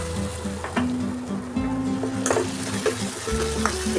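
Green chilies and ground black pepper frying in a pan with cauliflower in sauce, a steady close sizzle broken by stirring scrapes and clatters, with no voices.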